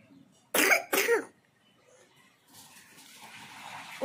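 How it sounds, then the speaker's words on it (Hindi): Two quick, sharp coughs from a child, close and clear, followed by quiet rustling and a soft hiss. "उठने के बाद ना एक आध बार इसको खांसी जरूर हो जाती है"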